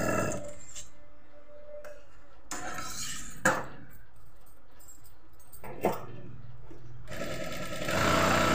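A sewing machine stitches a suit in several quiet bursts separated by short pauses, with faint clicks and handling sounds between runs.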